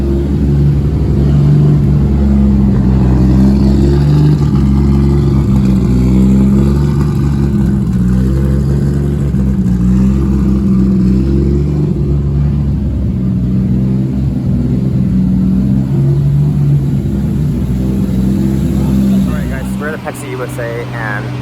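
A loud car engine, a Toyota 1JZ or 2JZ, runs steadily at high revs on a dyno, a dense mechanical roar that holds for about twenty seconds before easing off at the end.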